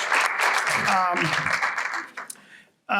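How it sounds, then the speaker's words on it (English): Audience applauding the chamber board at a Merrimack Valley Chamber congressional breakfast forum, a dense burst of clapping mixed with voices that fades out over about two seconds, leaving near silence before a sudden loud return. "give them a round of applause"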